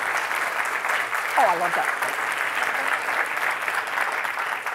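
A live audience at a speech claps in steady, sustained applause that fills the room, while a voice briefly speaks over it.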